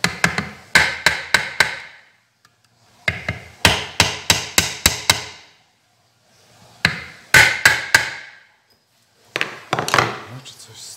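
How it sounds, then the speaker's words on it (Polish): Hammer lightly tapping the stock of a CZ 557 Varmint rifle during pillar bedding, in bursts of four to six quick, close knocks separated by short pauses. "I leciutko spróbuję stuknąć młotkiem."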